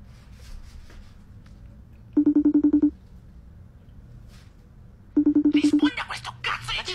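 A smartphone video call rings out as two separate bursts of rapid, evenly pulsed tones, loud and close, followed by rustling and handling noise.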